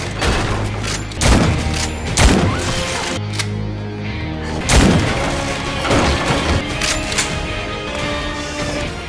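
Several sharp gunshots ring out at irregular intervals in a game, separated by pauses, loud and close with a low hum underneath.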